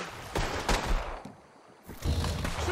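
Gunfire in Red Dead Redemption 2, a few sharp shots cracking out in quick succession over outdoor ambience, moderately loud with a brief lull between bursts.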